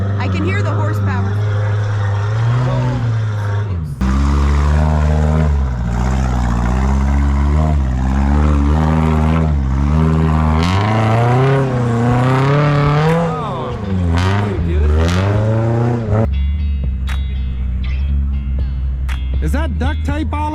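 Car engine revving hard, loud and close with rising and falling pitch sweeps over about twenty seconds, a brief drop near four seconds, accompanied by people talking at a New Years Day recreation outing.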